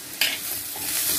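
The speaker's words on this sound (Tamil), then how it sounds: "அரிஞ்சு வச்சுருக்கிற பீட்ரூட் இலையை நான் இதுக்குள்ளே சேர்க்குறேன்" Chopped beetroot leaves drop into hot oil with a sudden loud sizzle that settles into a steady, close frying hiss with light stirring.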